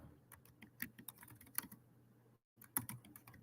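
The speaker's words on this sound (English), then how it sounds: "Yes, I'm typing something." Someone types on a computer keyboard in quiet bursts of soft, irregular key clicks that stop for a short silent gap before the tapping resumes.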